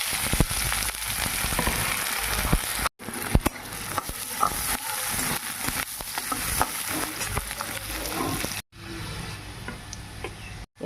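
Chopped onion and dried red chilli frying in mustard oil in a kadai, a crackling, spitting sizzle with scattered pops and stirring scrapes, close and continuous, cut by two brief silent breaks.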